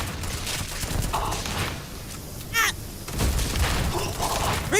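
Gunfire in the space game Starfield, a few shots crackling amid a busy, noisy game soundscape with bursts of louder impacts, under moderate background noise.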